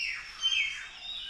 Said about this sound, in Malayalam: പക്ഷികളുടെ വലിയൊരു ആരവം തന്നെ നമുക്കിവിടെ കേൾക്കാം